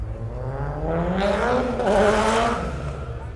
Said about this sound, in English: You can hear everybody around here is revving and racing on the street.